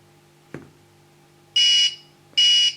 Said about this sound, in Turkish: buzzer'ımız ötmeye geçecek